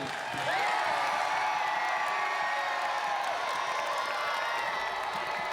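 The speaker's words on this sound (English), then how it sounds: "A massive round of applause for all of our finalists" Audience at a robot-building competition show cheers and applauds the finalists, a steady wash of clapping and whooping at moderate distance that holds evenly throughout.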